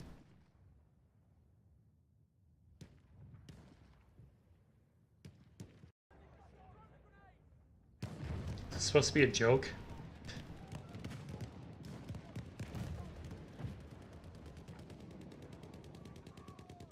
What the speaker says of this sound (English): Soothing, relaxing, meditated World War I sounds.